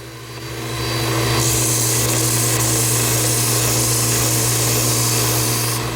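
A Bauer oscillating edge belt and spindle sander running as it sands a piece of white oak hardwood, a steady loud motor hum with a rough abrasive hiss that builds in and holds throughout, with no talk.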